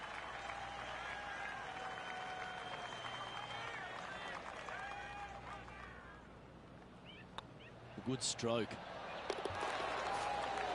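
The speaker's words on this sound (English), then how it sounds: "Golf clap." Golf gallery applause from a PS4 golf video game, a crowd clapping and murmuring under spoken commentary, followed by a few sharp bursts of game sound effects.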